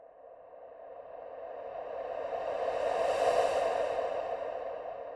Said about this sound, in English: some white noise that I just put a static filter on and then added a ton of reverb